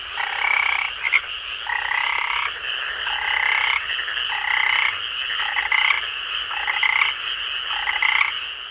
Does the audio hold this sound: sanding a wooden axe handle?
no